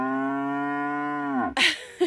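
A nine-month-old farm cow moos in one long, steady, loud call close by, the note sagging at the end before a brief rustle and a soft thump.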